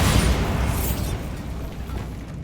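Bombarda blasting spell from Hogwarts Legacy: a broad, rumbling explosion that hits at once and decays slowly over a couple of seconds, loud and full-bodied with no talk.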